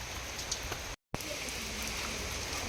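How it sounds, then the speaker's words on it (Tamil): Heavy rain pours down near a temple entrance, a dense, steady hiss that cuts out for a moment and then returns at full strength. "நல்லா மழை பெய்யுது."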